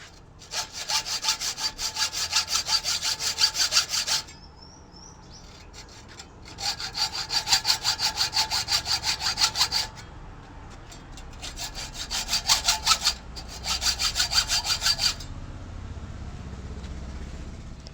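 A hand saw cuts through a bicycle carrier during a mountain bike build. Close, loud rhythmic rasping strokes come in several bursts separated by short pauses.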